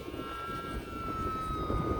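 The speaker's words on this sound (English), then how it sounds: "so I keep turning the airplane, leaning it into the wind so it doesn't go away from me." A small E-flite UMX Pitts S-1S RC biplane on a 3S battery flies in the wind, its electric motor giving a steady whine at moderate distance over constant outdoor wind rumble.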